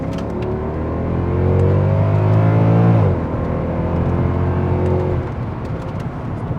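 A Mercedes W219 CLS63 AMG accelerates hard, its engine note rising smoothly and loudly before a brief dip at a gear change, then carrying on at a lower, steadier drone that fades slightly.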